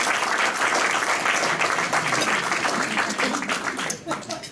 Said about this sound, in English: was it worth that applause or not?